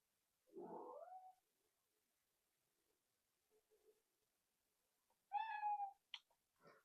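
A pet cat meows twice indoors, a drawn-out mid-pitched call followed after a pause by a louder, clearer meow with a few faint chirps trailing after, close and alone with no talk.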